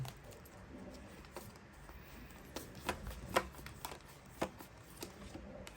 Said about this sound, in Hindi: 4 कार्ड्स निकालूंगी यहाँ से